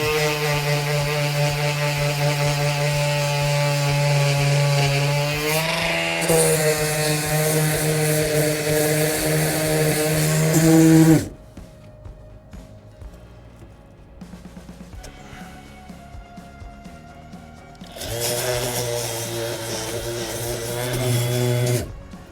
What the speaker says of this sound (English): I'm gonna get my little sander and just hit that.